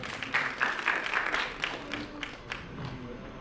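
An audience welcomes a singer with applause, clapping strongest early and then easing into scattered claps with some background murmur.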